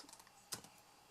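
A single soft keystroke clicking on a computer keyboard, a quiet and brief tap in near silence.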